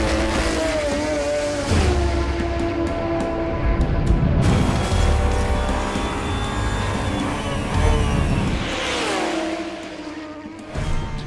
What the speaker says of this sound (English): Fire the engine.